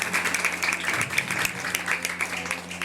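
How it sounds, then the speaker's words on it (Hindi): A crowd claps together in dense, steady applause that fills the whole stretch, with a hum of voices underneath. "एक बार जोरदार तालियां बजा दीजिए"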